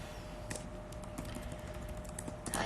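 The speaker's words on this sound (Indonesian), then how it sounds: "aku ketik dulu" Quiet keyboard typing, a loose run of soft clicking keystrokes at a close distance, with no talk.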